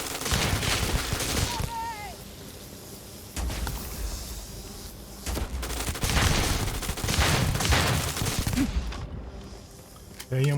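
Gunfire in the video game Starfield crackles in rapid, heavy bursts over several seconds, close and loud, with a voice speaking intermittently beneath the shooting.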